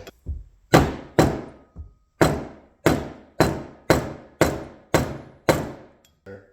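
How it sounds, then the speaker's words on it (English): A mallet strikes a socket wrench extension to drive a bearing out of a Polaris 350L water pump, giving about nine sharp, ringing metallic hits at a steady pace, close and loud, with no talking. "I'm just going to grab a mallet"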